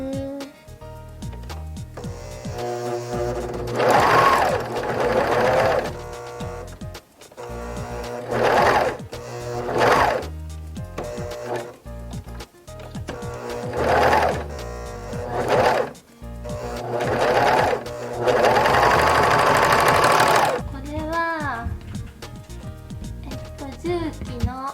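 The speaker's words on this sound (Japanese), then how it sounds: "3本糸のロックミシン。" A Juki three-thread serger overlocks the edges of fabric for a doll outfit's cap, its motor buzzing loudly in repeated bursts of a few seconds each, separated by short pauses.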